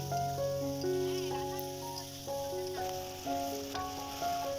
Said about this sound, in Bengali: এবারে মটরশুঁটি দেওয়া হয়ে গেছে নেড়ে নিচ্ছি